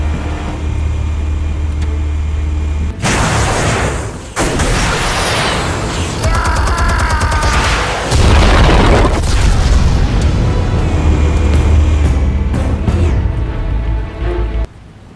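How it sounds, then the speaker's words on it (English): Explosives detonate in Batman The Telltale Series, sending heavy booms and crashing blasts through several seconds, with loud rumbling debris and rushing noise between bursts and no speech. "Explosives armed. Fire when ready."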